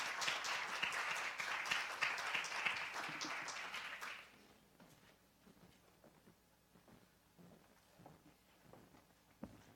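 Audience applause welcoming a speaker to the podium at a human rights event, a steady wash of clapping for about four seconds before it abruptly dies away to scattered quiet room noise and footsteps.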